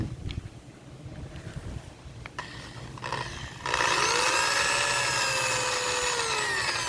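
A drill bores into a PVC chicken tractor frame outdoors, first as low rumbling with brief contact sounds, then a sustained loud whine with rising tones over steady wind noise.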